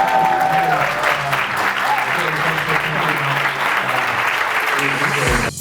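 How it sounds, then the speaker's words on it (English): An audience breaks into loud, sustained applause, a thick continuous roar of clapping close and full, with voices and cheering mixed in, cutting off abruptly at the end. "I think Gary deserves like a really big round of applause."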